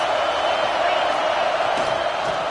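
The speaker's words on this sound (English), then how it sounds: "This crowd trying to make life miserable for this offense." A large football stadium crowd roars in a dense, steady wash of cheering and noise at a college game between Alabama and Ohio State, loud and continuous throughout.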